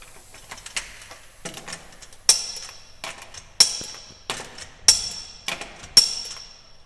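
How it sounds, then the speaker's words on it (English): A torque wrench tightens lug studs on a Jeep Liberty. Sharp metallic clicks arrive in small bursts, with a few louder clacks spaced about a second apart and quieter ticks between them, close and clear. "Now we torque our lug studs."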